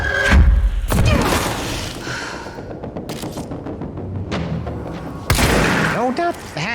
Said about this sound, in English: He's already launching a grenade at me.